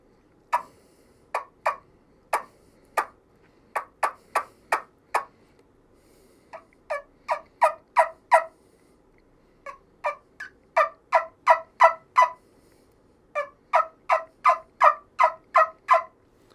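A hunter's trumpet or wingbone turkey call sounds sharp, high yelps in quick runs of four to six notes with short pauses between, close and clear, imitating a hen turkey.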